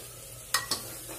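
Mutton frying in a pot and being stirred: a soft sizzle underneath, broken by two quick scraping stirs close together near the middle, quiet overall and with no talk.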